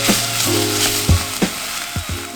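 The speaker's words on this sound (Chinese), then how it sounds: "像这样子稍微拌炒一下，让它们出了香味就可以了。" Onions and green onions stir-fried in a pot as the base for lamb chorba: a loud, close sizzle with a handful of sharp spatula scrapes and knocks against the pot, no speech.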